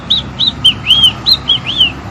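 A close, clear whistled imitation of a great kiskadee's call, seven short bright chirping notes in an irregular rhythm, with no other sound.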